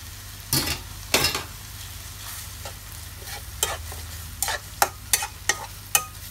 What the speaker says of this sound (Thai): พอผักสุกดีแล้วเราก็ใส่สปาเกตตี้นะคะที่เราลวกแล้วลงไป